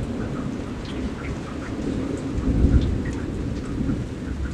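Low rumbling thunder rolls through a thunderstorm over steady heavy rain, building to a louder peak midway then easing, with no voices.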